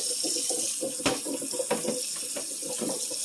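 Tap water runs steadily into a kitchen sink as cooked pasta is rinsed, a constant close rush with a few light splashes.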